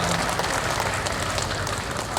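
Audience applause at an award ceremony for the education and culture office in Malang, East Java: steady, dense clapping from a crowd, filling the short moment at even loudness with no voices heard.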